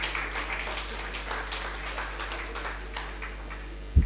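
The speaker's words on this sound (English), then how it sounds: "Clap heavily, those who didn't go." A conference audience claps at a medical meeting, a fairly even, moderate spread of many hands heard from within the hall, ending on a single louder thump.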